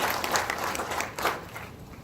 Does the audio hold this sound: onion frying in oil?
no